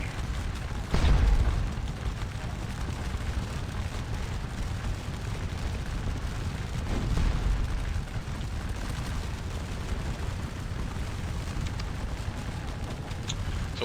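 Artillery cannon fire in the Napoleonic battle game Scourge of War Waterloo, a couple of deep booming blasts spaced several seconds apart over a constant low rumble of battlefield noise.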